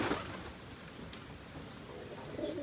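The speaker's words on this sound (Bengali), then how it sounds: "2টা পায়রা হয়েছে। ওই কোনা এটা হলো পায়রা," Domestic pigeons kept at home coo softly and close by, with low, rolling murmurs that swell at the start and end over a quiet background.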